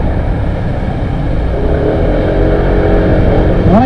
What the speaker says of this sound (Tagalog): Hindi pa naman ako ganang kagaling sumingit sa motor na ito.